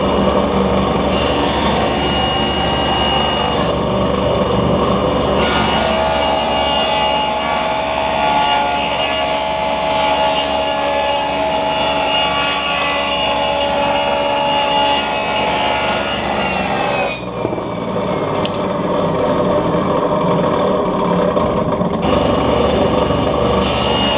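A saw makes a test rabbet cut through wood for a clamp rack, a steady close rasping stroke that runs continuously for over twenty seconds, with a short pause and shift near the end.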